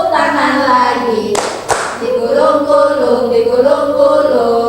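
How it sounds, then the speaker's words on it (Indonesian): A class of children sings a clapping song, voices carrying a melody with a sharp burst of hand claps in the middle, close and loud under the singing. "Buka tutup, bertepuk tangan. Buka tutup, tepuk tangan lagi."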